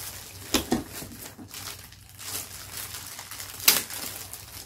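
Plastic wrapping around a robot vacuum cleaner body crinkles in sharp, scattered bursts, with a couple of louder rustles between quieter handling sounds and no talk.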